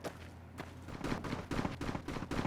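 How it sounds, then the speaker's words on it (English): Gunfire in a Fallout: New Vegas Vietnam War mod, rendered as repeated broadband bursts in a fairly steady rhythm, several shots and volleys clustered together at moderate distance, no voices. "We could hear the gunfire ahead."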